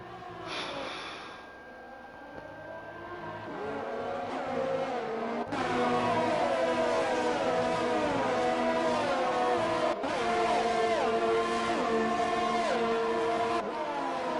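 F1 race car engines in a racing video game at Abu Dhabi, a sustained high-pitched whine that rises and falls with shifting revs, loud and continuous, a brief breathy burst at the start, no talking.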